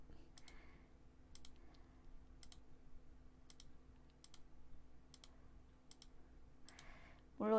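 A computer mouse clicks in sharp, evenly spaced single clicks during 3D modeling, quiet and close over a low steady hum, with a burst of other noise at the end.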